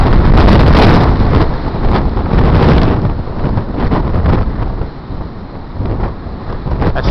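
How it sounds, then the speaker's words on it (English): Strong wind gusting at about 100 km/h batters the microphone outdoors near a hexbeam antenna on a small rotator, a loud continuous roar and rumble that rises and falls but never lets up. "Stupid wind! Stop, stop, stop!"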